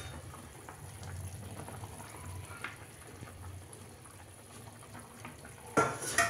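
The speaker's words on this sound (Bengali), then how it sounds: "ভেটকি মাছের ঝোল প্রায় টকবক করে ফুটে গেছে" Bhetki fish curry simmering in a pot, a soft continuous bubbling and low burble close by, with faint clinks and a louder knock of cookware near the end.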